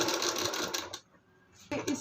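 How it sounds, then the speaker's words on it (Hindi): A domestic sewing machine stitching around the curved armhole of a heavily embroidered blouse, setting in the sleeve. It runs in a steady whirring burst, pauses briefly, then starts up again, close and fairly loud. "अब इस पे हम पूरे गोलाई में सिलाई लगाएंगे 1/2 इंच दबाते हुए"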